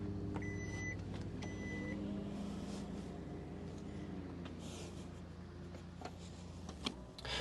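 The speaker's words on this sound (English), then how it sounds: "you can easily fold the seats back up just by pressing that button" Steady electric motor whir of the power-folding rear seats in a 2025 Genesis GV80, moving continuously at close range with faint clicks near the end, no talking.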